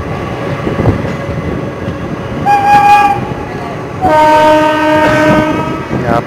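Punjab Mail express train (12138, Firozpur to Mumbai) at Birla Nagar station, a loud rumbling run with a sustained horn blast sounding twice, the second longer, heard close by.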